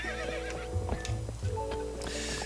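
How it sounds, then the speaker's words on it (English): A horse neighs loudly in The Legend of Zelda: Twilight Princess, a drawn-out whinny over steady game music with some clip-clop of hooves. "we have finally gotten our horse back"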